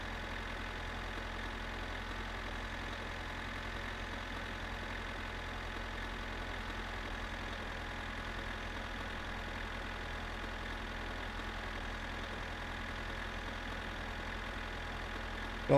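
Tractor engine idling in the video game My Summer Car, a steady low rumble holding at one even level for the whole stretch, close and continuous with no talk over it.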